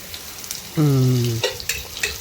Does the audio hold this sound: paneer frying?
yes